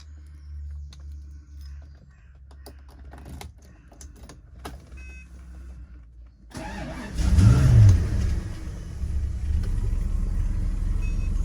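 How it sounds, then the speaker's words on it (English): A Rolls-Royce Silver Spirit Mk3's engine idles quietly, with faint clicks, then starts with a sudden rumble, briefly revs louder, and settles into a steady running drone. "So we'll pull the car out"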